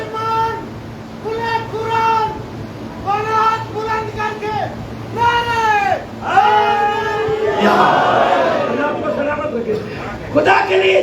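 A crowd at a Shia majlis gathering in an imambargah chants slogans in loud unison, answering a lead voice in repeated rhythmic calls that swell into an excited roar near the end.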